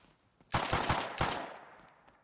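AK rifle fire in the survival game Rust, a close, loud volley of about five rapid shots followed by a short pause and another shot with a fading tail.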